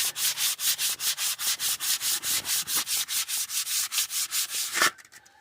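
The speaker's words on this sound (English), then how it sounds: "I just hit them real quick with some sandpaper just to give them a fresh edge." Brake pads are rubbed by hand with sandpaper in fast, even back-and-forth strokes, about four per second, loud and close, before stopping abruptly near the end.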